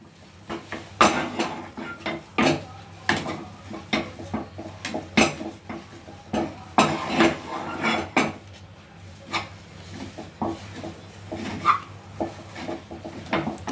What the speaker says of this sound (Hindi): तो लो फ्लेम पे इसे हम पहले भून लेते हैं।